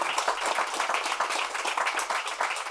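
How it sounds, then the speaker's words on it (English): A studio audience breaks into dense, steady applause, a continuous patter of many hands clapping at moderate distance, with no voices over it. "It does deserve a round of applause."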